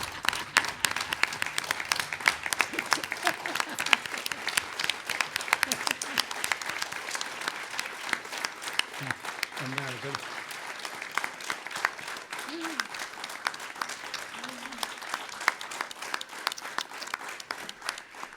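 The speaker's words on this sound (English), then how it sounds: "let's give a big standing ovation to Mama here" Sustained applause from an audience giving a standing ovation at an arangetram, a steady dense clatter of many hands lasting throughout, with faint voices murmuring underneath.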